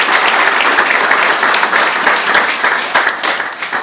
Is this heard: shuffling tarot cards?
no